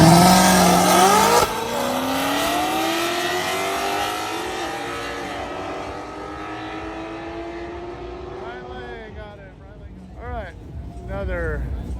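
Chevrolet SS and Ford Mustang drag racing side by side, loud engines revving and accelerating hard away from the line, the roar gradually fading into the distance as a voice talks over the run.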